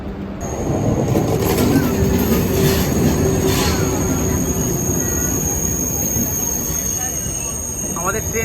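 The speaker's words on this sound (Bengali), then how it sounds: "আমাদের ট্রেন এসে গেছে।" A Eurostar train pulls in at a platform in a large central station, a continuous loud rumble of wheels on track with faint squeals near the end, voices talking over it.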